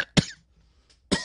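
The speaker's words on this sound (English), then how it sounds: "coughing" Two sharp, close coughs separated by a short pause, with a faint throat sound between them.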